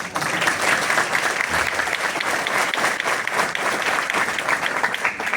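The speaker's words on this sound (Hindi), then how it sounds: "अगर ताली मारने का दिल करेगा ना, तो जोर से ताली मारना है।" Strong, sustained audience applause at a university convocation ceremony, a thick wash of many hands clapping steadily throughout without speech.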